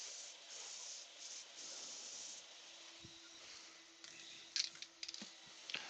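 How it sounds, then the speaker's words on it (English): A spray gun applies sanding sealer to a wooden craft piece in a workshop, giving a steady, fairly faint broadband hiss that runs throughout, with a few brief louder bursts of spray near the end. "Going to spray sand and sealer"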